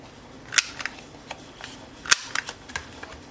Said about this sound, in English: I'm going to grab my corner rounder. I'm just going to round the top.